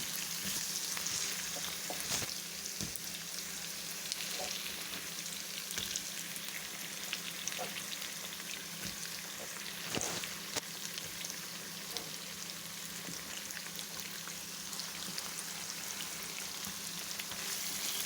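Thinly sliced potatoes fry in a pan with a dense, steady crackling sizzle like light rain, faint occasional clicks of a utensil over the even background.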